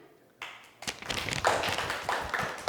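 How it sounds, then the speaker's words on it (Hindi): A group claps for the cat team in a classroom-style game session. The clapping starts after a few scattered taps and thuds, then builds into a loud, uneven run of claps. "जोरदार तालियां"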